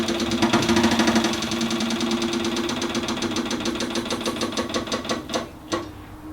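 An Austin Healey 100/4 M Spec engine on full choke runs with a steady, fast mechanical knock and lumpy idle, loud and close, with a few sharp clacks near the end.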